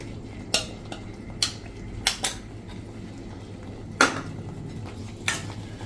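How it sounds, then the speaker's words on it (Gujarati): Chopped onion and capsicum tipped into kadai paneer gravy in a pan, a handful of sharp spoon-on-metal clinks and scrapes spaced over a few seconds above a soft low simmer. "હવે આ સ્ટેજે આપણે એમાં જે કાંદા અને કેપ્સિકમ લીધા છે એ નાખી દેશું."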